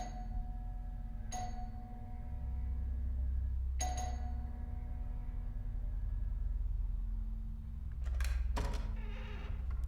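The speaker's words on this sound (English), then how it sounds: "Let's ring the doorbell." Two ding-dong chimes of an apartment doorbell a couple of seconds apart over a low steady hum, then some clattering near the end.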